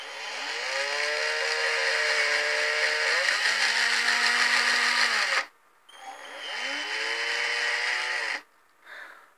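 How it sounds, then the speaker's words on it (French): Power drill boring through the bottoms of plastic bottles, a steady whining motor that pitches up and down, then stops and restarts briefly, close and fairly loud. "nous allons percer le fond des 2 bouteilles"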